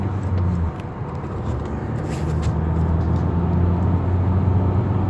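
Nissan Qashqai accelerating on the road, heard from inside as a steady, fairly loud engine and road drone that holds level throughout with no talk.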